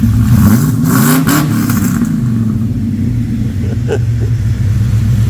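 A Holden VC Brock car engine on a hoist, with a quiet exhaust, revs loudly up close, rising and falling in a couple of throttle blips before settling back into a deep, steady rumble.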